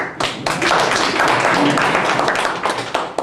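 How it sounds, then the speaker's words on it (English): Audience at an Afromaison event in Uganda breaks into clapping: a sudden burst of many hands close by that swells quickly, stays dense and loud, then thins into scattered claps near the end. "I want you to clap for him."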